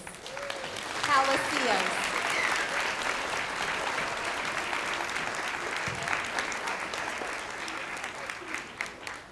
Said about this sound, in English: I want you to give a huge round of applause to Miss Sandra Pena Palacios.